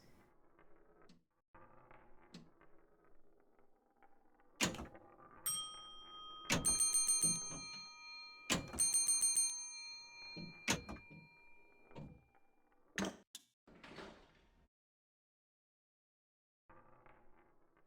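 A pinball machine's bright electronic bell tones ring out in quick bursts amid mechanical clunks and thumps, with quiet gaps in between.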